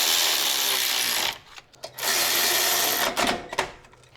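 A power tool drives bolts on the front brake caliper of a 2009-2015 Honda Pilot, giving loud, sustained whirring bursts with a brief pause and short buzzing stops near the end.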